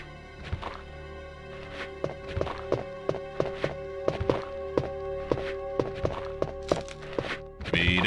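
Repeated melee strikes landing on an enemy in a Resident Evil 2 mod, a series of dull thuds and whacks at an uneven pace over a steady game hum.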